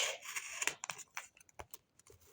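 Adhesive tape is peeled off a folded paper surprise close by, making quiet, irregular scratchy rips and crinkles in short bursts with small pauses between them.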